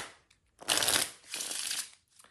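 Playing cards shuffled by hand during a magic card trick, two quick riffling bursts of crisp, close fluttering with a short pause between them, no talking.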